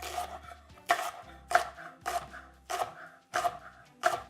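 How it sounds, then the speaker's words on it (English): A knife chops two shallots on a cutting board while a pasta main course is prepared, giving six or seven crisp, evenly spaced thuds, close and clear, with no talking. "We're gonna cut shallots, 2 of them, just like this"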